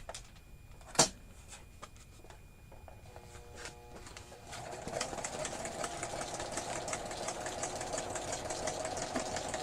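A sewing machine running a zigzag stitch, a steady mechanical whir and rapid needle chatter that starts after a few seconds of quieter handling sounds and one sharp knock.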